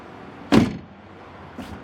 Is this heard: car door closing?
yes